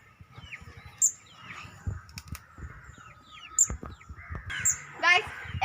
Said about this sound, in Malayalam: പാവം കിളിയല്ലേ?